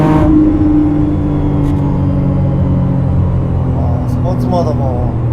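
A 2025 McLaren Artura in sport mode on Tokyo streets gives a steady, close engine and exhaust drone that swells briefly with a rising rev toward the end.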